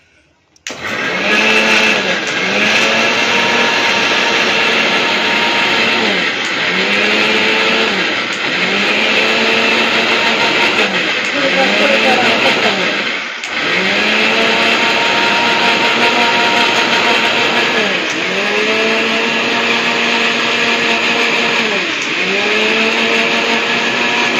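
A mixer grinder whirs loudly for the whole stretch, blending mint, its motor pitch rising and dipping in repeated surges, with no talking over it.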